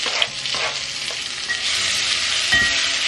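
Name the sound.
diced onions sautéing in a pan with oil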